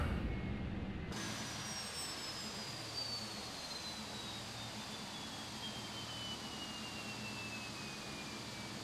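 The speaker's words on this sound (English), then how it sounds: "Shut down engine 1." A jet airliner engine spins down after landing at Reagan National Airport in the FSX flight simulator, a steady fading whine with a slowly falling tone, alone and fairly quiet.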